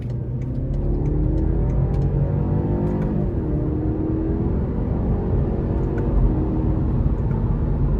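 A 2017 BMW 530i accelerating hard onto an interstate, heard from inside the cabin: a steady, loud low engine and road roar with rising harmonic sweeps as it pulls through the gears, no talking.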